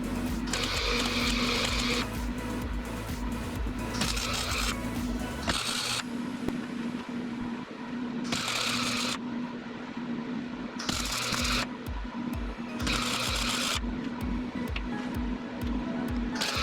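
Arc welding beads onto a go-kart frame, several sustained crackling buzzes of a few seconds each separated by pauses, fairly close over a steady background hum.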